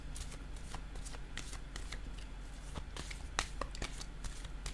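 A deck of cards riffled and shuffled close up, a steady run of rapid flicks and soft slaps over light room noise, with cards then set down and no talk.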